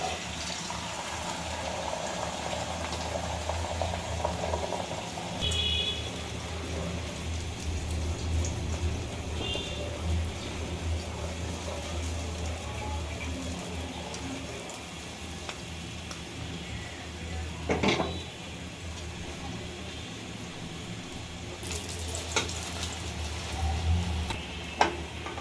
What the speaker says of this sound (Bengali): দুইটাকে এবার বড় করে ফ্রাই করে ফেলবো।